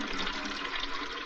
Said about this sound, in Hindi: अभी चलती हूँ, पानी भर लूं।